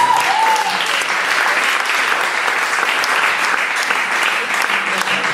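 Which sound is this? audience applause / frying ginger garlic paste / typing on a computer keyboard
audience applause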